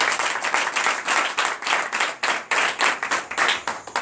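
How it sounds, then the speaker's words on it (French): Close, energetic applause fills a church as the congregation claps fast and continuously in rhythmic waves for acclaim, with no talking over it. "Donnez l'acclamation à Jésus."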